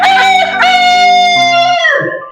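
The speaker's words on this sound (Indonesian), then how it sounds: "Cece kemudian bertemu dengan ayam jago" A rooster crows once, loud and close, in a long drawn-out call that falls away at the end, set within a children's story.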